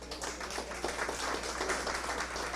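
A church congregation applauds in welcome for a teacher, giving steady, dense clapping that stays fairly faint and distant throughout.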